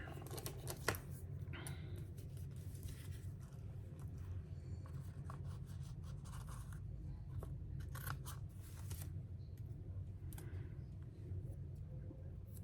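Scissors snip through sewn fabric tags with a glued section, making soft, repeated close cuts in a quiet room, faint and fairly continuous.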